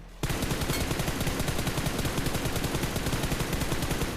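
A DP machine gun fires in the BGMI battle royale game as rapid, evenly spaced shots in one long continuous burst that starts abruptly and stays loud and close.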